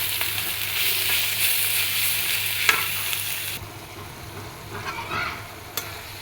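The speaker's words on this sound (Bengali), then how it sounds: "ঠিক কষাচ্ছি" Food with salt, ginger and garlic sautés in a pan, making a bright, even sizzle with occasional stirring clicks. The frying drops to a quieter hiss about halfway through, with no voices.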